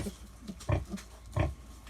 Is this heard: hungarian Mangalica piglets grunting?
yes